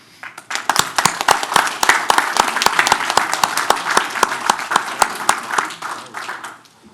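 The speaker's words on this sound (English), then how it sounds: "So I'd like for us to give a round of applause and appreciation for all of their hard work on this board" A council meeting audience gives a round of applause, with distinct sharp claps in a quick, uneven rhythm that swell, hold steady, then thin out and fade near the end.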